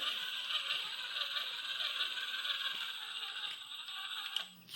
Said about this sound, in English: And we'll just torque it as much as we can. We're actually binding up in the frame.